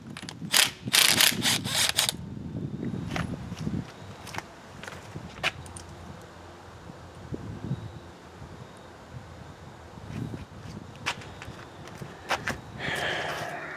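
Ratchet wrench clicking in short bursts while removing a temperature sensor on a 2004 Cadillac Escalade, the strongest run early on and scattered clicks with handling noise after, close and alone without talk.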